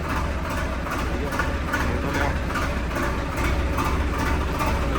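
Modified Swaraj 855 tractor diesel engine running after starting, a loud, steady low throbbing with a rhythmic pulse, close by.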